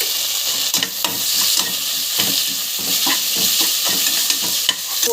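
Loud, steady sizzling of spices and ginger garlic paste frying in a hot pan for ghee rice, with repeated scraping clicks of a spoon stirring.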